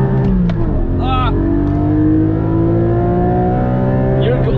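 A Porsche Cayman GT4 in loud mode launches and accelerates hard, its engine note climbing steadily and staying loud and close, with a brief voice cutting in partway through.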